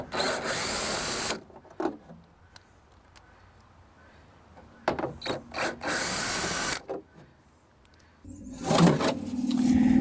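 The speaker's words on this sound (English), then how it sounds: "we can remove these few screws right here that hold on this bottom panel" Screws being removed from the bottom panel of a velomobile with a power driver, several loud whirring bursts separated by quiet pauses and small clicks of handling, close up, no talking.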